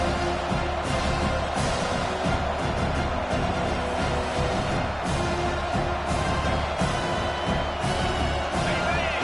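Roaring stadium crowd in a Madden football video game during a college game featuring the Hurricanes, a dense, continuous wall of cheering that holds steady under play-by-play commentary.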